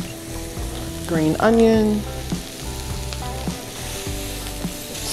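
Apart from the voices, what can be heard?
veggies for barbecue shrimp sizzling and stirred in pan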